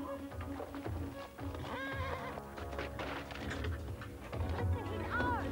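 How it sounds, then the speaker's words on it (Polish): A horse neighs and whinnies with clip-clopping hooves, set in a New Zealand drama scene, with several loud whinnies rising over steady hoof beats and background movement. "Koń."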